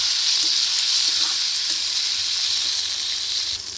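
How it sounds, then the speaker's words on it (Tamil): Tomatoes and tamarind sauté in a pan with a steady, close sizzle and hiss of frying. The sound dips slightly near the end, with no voices. "இப்போது தக்காளியும் புளியும் நல்லா வதங்கிடுச்சு ஃப்ரெண்ட்ஸ்."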